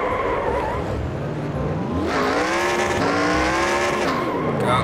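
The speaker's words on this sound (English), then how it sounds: "I think I made a crash." Race car engines whine through gear changes with tire squeal in the video game NASCAR Racing 2003, a loud continuous roar with shifting pitch as cars run close together after a crash.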